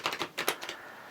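Tarot cards shuffled by hand in a few quick riffling bursts, close and fairly quiet, trailing off into near silence.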